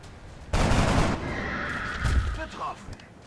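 Burst of gunfire from the XCOM strategy video game, a loud broadband volley starting abruptly and ringing on for about two seconds with a tonal tail, with a voice talking under it.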